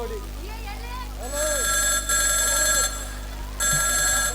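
An iPhone ringtone rings loudly in repeated bursts, with brief gaps between rings, while a voice talks over the start.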